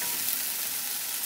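Spice masala frying with brinjal in oil, a dense continuous sizzle heard up close and fairly loud, with no voices over it.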